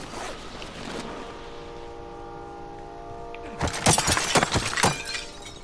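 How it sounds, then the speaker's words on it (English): A glass window shatters in Call of Duty Warzone, a loud burst of several sharp breaking cracks following a stretch of steady droning background. "Ah, break! Stupid glass."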